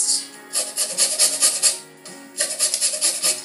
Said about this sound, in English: More lemon zest.